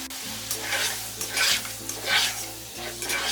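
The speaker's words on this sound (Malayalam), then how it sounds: "ഇനി ഇതിലേക്ക് ഈ ക്രഷ് ചെയ്ത് വെച്ചിരിക്കുന്ന ടൊമാറ്റോ ചേർത്ത് ഇളക്കി കൊടുക്കാം." Crushed tomato is stirred into a rice masala frying in a pan for Arabic kabsa, giving close, rhythmic spoon scrapes over a continuous sizzle, with a low hum underneath and no talk.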